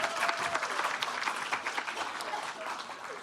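An audience claps in steady, dense applause at a news conference for the 150th anniversary of Madison Public Library, sustained throughout without fading out.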